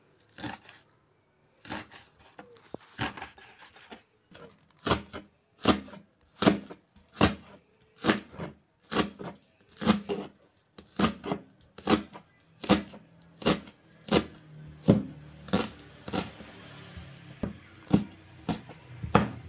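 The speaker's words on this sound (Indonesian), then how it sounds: "sekarang daun bawangnya akan saya rajang" Spring onions being chopped with a knife on a board, a steady run of sharp, close chopping strikes repeating at a quick, even rhythm with no talking.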